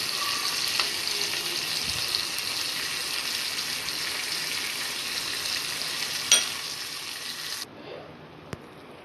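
Mackerel frying in a pan under a coating of masala paste for a bangda curry, giving a steady broadband sizzle that runs continuously, with a brief clatter near the end before it drops quieter.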